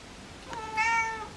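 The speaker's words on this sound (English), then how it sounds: "My cat's making sounds." A pet cat gives a single short meow at close range, rising and then fading, over a quiet room background.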